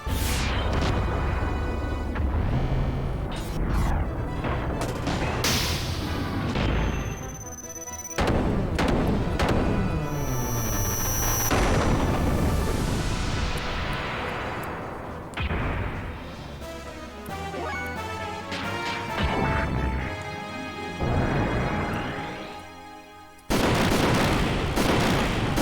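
Cannon fire in the Xenogears video game, heavy booming blasts and crashing explosions layered over continuous loud game music and effects, with no talking.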